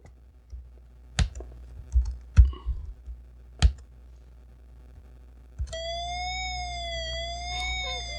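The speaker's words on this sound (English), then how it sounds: "So, that's the siren." A few sharp clicks and taps, then a thin electronic PC speaker beeping tone that rises and falls like a siren, steady and close.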